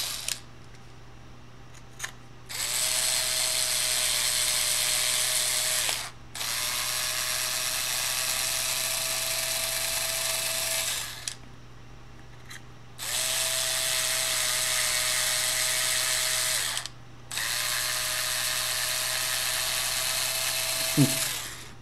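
Holes for M3 screws being threaded in a 3D printer part, four sustained close whirring motor runs of several seconds each separated by short pauses, with a constant low hum throughout.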